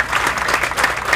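An audience at an Italian naval awards ceremony for the Coppa Lord Byron aboard the ship Scirocco claps, uneven bursts of hand-clapping rising and dipping over a short stretch.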